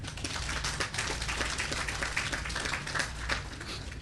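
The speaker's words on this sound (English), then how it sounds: "I want you to applaud them" An audience at a 50th anniversary naming ceremony for Keith Hunte Hall claps in a dense, steady patter of many hands, moderately loud and held at an even level throughout.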